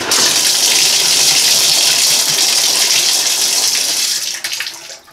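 Water from a tap fed by an undersized Ecosmart Eco 11 electric tankless heater gushes at full blast into a bucket, a loud steady rushing pour that tapers off near the end.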